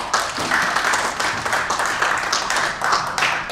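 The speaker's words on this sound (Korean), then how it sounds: "박수 부탁드립니다." Audience at a financial forum applauding after a speaker introduction, a dense sustained wash of many hands clapping for several seconds without pause.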